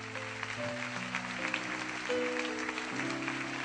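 A church congregation applauds during a worship service, a steady wash of clapping running under sustained music tones throughout.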